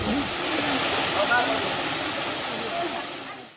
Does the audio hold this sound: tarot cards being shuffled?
no